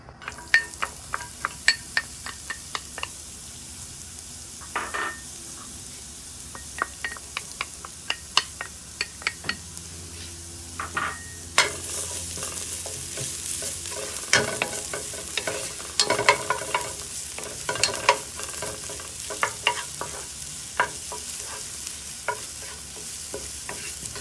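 Garlic and ginger fry in sesame oil while a utensil stirs and scrapes the pan, sharp repeated clacks over a sizzle that swells louder and hissier in the second half.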